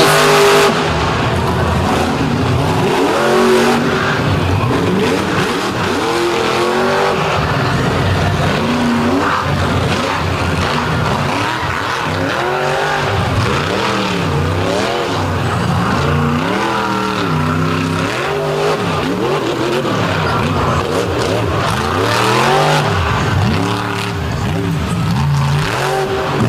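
Monster truck on a freestyle run at a beach show in Virginia Beach, engine roaring and revving hard with rising and falling surges, tire noise and crowd din throughout, loud and close.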